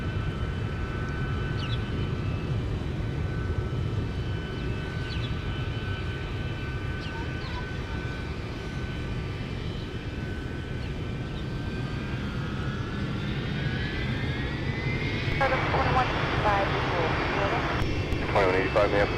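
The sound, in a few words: Delta airliner from Tokyo Haneda at Minneapolis airport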